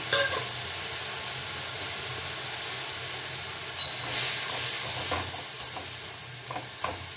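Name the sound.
chutney ingredients being stirred while cooking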